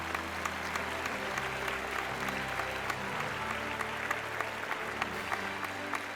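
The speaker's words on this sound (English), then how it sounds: "Enough with applause." Steady, dense applause from a crowd, even and continuous throughout, with faint mechanical hum beneath and no talk.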